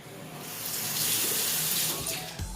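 A tap runs steadily into a sink as someone rinses exfoliating cleanser off their face, a close, continuous splashing rush that swells slightly and then eases, with no talk.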